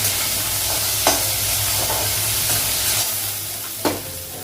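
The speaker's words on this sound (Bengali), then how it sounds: "আলুটা লাগালাম আলুটা একটু ভেজে নেব" Potatoes fry in a pan, a steady loud sizzle with a low hum underneath and a few sharp scrapes as they are stirred, close by, with no voices.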